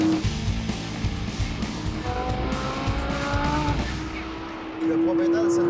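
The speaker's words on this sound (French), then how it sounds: "ce moteur-là, dans les montées en régime, quand ça monte d'un tour, c'est musical" A Lamborghini Huracán Spyder's naturally aspirated engine revs loudly through rising and falling pitches, close and continuous, with a voice speaking over it at times.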